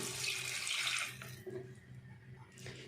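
Water pours steadily into a cooking pot for methi matar pulao, a bright gushing splash for about a second, then a quieter trickle and settling slosh.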